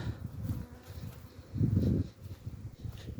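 Honeybees buzzing around hives at an apiary coming alive in warm weather, a low, continuous droning hum that swells in a louder burst midway as bees fly close.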